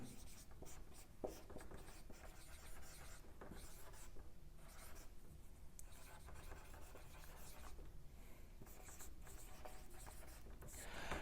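Faint, continuous scratching of a marker or chalk writing on a board in a chemistry lecture on conjugated dienes, with steady short strokes and no speech over it.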